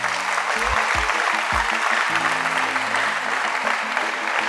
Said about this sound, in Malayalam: യേസ് എന്നുള്ളൊരു നല്ലൊരു ക്ലാപ്പ് ചെയ്തേ.